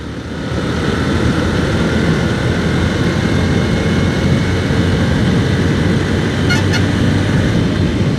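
A Bajaj Platina motorcycle is ridden under acceleration, its engine a steady, loud droning roar mixed with heavy rushing wind noise, with no clear breaks between gears.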